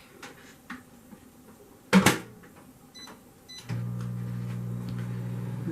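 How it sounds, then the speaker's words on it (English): A kitchen microwave oven shuts with a sharp clunk, then starts up into a steady, close electrical hum that runs unbroken to the end, with a few faint kitchen clatters before it begins. "let me stick this in the microwave for a minute"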